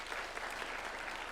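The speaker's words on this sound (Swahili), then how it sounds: "Tuwapigie makofi." Audience applause at a UDA party delegates meeting at State House in Kenya, a steady, dense wash of many hands clapping at moderate distance, continuous and even throughout.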